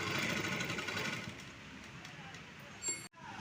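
A sewing machine stitches a saree fall edge with blue thread, giving a steady close mechanical whir that runs throughout before stopping briefly near the end.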